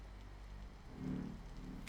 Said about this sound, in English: Welcome to the rainworld, or rain arena, however you want to call it.